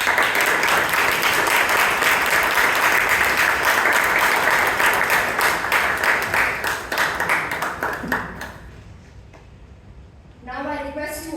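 Toastmasters club meeting audience in Bangalore giving a warm round of applause for new Toastmaster Benisha D'Souza, dense steady clapping that fades out near the end before a voice begins speaking.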